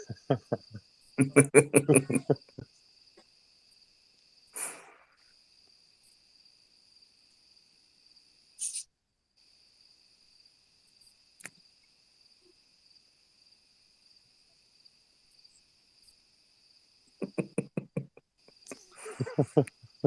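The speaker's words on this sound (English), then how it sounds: "Whoever's got crickets in the background" Quiet night ambience with a cricket's high, steady trill running throughout, interrupted by a few louder bursts of rustling and knocking noise.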